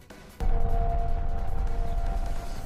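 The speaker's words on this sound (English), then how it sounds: "Testing tornado sirens to make sure they work." A tornado warning siren sounds during a test, a steady wailing tone that starts abruptly and holds over constant background rumble.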